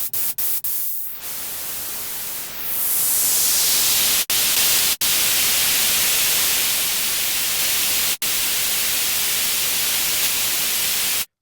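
Loud, steady synthesized hiss from the noise oscillator of an Omnisphere synth, opening with a few short bursts and filter sweeps before settling into continuous broadband noise, broken by brief dropouts.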